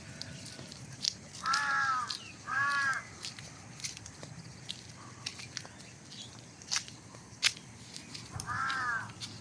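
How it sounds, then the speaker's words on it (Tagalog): Several crows caw in short harsh bursts at a distance, over a steady outdoor hiss with scattered clicks and rustles. "Daming ibon."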